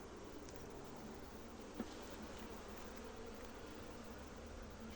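Honey bees at an opened hive after a split colony raised its queen, giving a steady, dense buzzing that continues throughout, close and even in level, with a single faint tap partway through.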